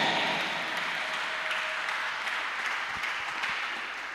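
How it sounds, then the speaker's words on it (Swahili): Congregation applause at a morning church service, a broad steady wash of many hands clapping throughout, fading slightly toward the end. "Ungesema amina kwa makofi mazuri"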